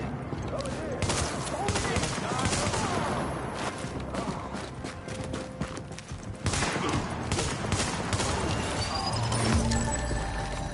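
Tactical ACR rifle gunfire in The Division, rapid shots crackling over dense combat noise with footsteps, while someone talks over much of it.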